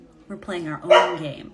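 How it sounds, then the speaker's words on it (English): A pet dog barks and yips in the background, a few short high calls rising under a woman's ongoing speech. "I don't know if you can hear my dog in the background"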